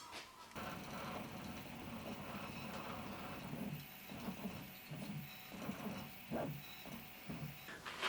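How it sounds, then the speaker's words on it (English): 3D printers run through a replacement-parts job, a steady mechanical whir and hum with soft rhythmic stepper pulses and faint clicks, moderately close and continuous with no talking. "we just need to wait for the 3D printers to finish now"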